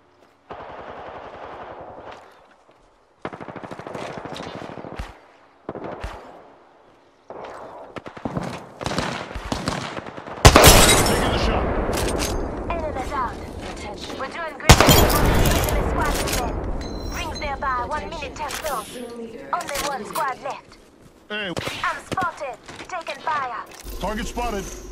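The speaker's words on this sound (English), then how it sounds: "I'm getting shot!" Rapid bursts of automatic gunfire in an Apex Legends match crackle loudly from about ten seconds on, with sharp volleys and scattered shots around speech in the quieter opening stretch.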